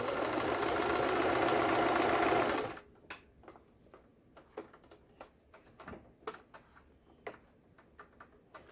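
A Juki HZL12z sewing machine runs a dense, steady stitching whir for a couple of seconds while sewing a zigzag stitch, then stops, leaving a string of faint clicks and ticks from handling the machine.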